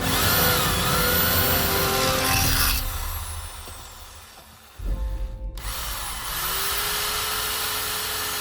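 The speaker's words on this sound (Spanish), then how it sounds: "Podemos observar que este taladro de 750 vatios también funciona sin problemas" A 750-watt electric drill powered by solar power whines at high speed, winds down to a stop, then starts up again and keeps running steadily, close and loud.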